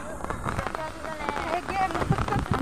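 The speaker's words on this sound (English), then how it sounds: "Lumalakas na ulan." Heavy rain falling at Gardens by the Bay in Singapore, a steady dense patter of drops on surfaces nearby, with faint voices and other sounds mixed in.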